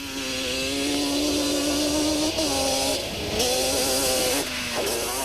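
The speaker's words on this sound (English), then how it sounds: "Yuri Duplessis on the Team Gap Yamaha, with Peter Breckel on another Yamaha Banshee pushing as hard as he could and getting the quad sideways on the loose surface." Yamaha Banshee quad bikes race hard on a loose dirt surface at a 1995 event, two-stroke engines whining continuously and loud, pitch dropping and rising as riders shift and get sideways, with no talk.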